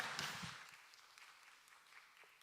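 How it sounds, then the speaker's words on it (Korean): Applause from a church congregation during a Korean Sunday worship service, fading steadily from a brief moderate burst to a soft patter over a couple of seconds, with no talk over it. "우리 박수로 다시 자리로 모셔보도록 하겠습니다."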